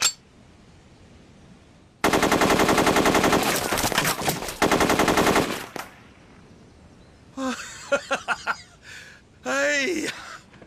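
An American light machine gun of WWII vintage fires long, dense automatic bursts at close range, loud and rapid from about two to six seconds, followed by short gasping and sighing voices.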